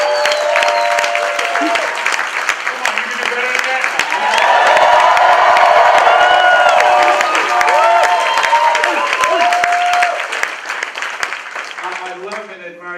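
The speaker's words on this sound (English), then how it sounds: "Give him another round of applause." A large audience at a motivational leadership talk breaks into loud applause and cheering, with whoops and shouts swelling to a peak in the middle before tapering off, while a voice speaks over the crowd.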